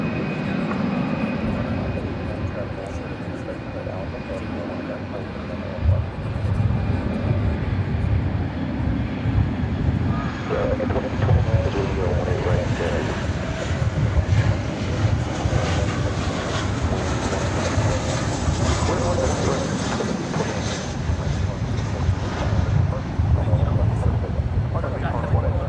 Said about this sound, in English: It's American Flight 1836 rolling now. It's going to San Antonio, Texas. An Airbus A319.